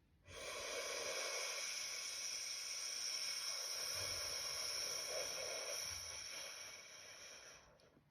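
A long, steady exhale during a guided breathing exercise, a soft airy hiss sustained for several seconds, close and quiet with no talking.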